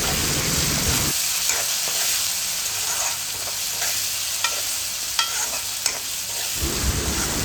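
Onion and chopped tomatoes stirred in a sizzling pan, the frying hiss running steadily beneath intermittent scrapes and taps of the spatula; close, with no talk.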